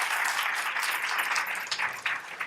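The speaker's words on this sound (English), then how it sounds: "Please give a round of applause." A crowd applauds at a human trafficking summit at Agnes Scott College, dense, steady clapping that holds for a couple of seconds before thinning out slightly at the end.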